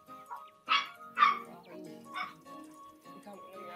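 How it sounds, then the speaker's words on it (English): Dog barking, a few sharp close barks in quick succession followed by softer yips and whimpers, with quiet talk in the background. "my dog barking and your dog barking?"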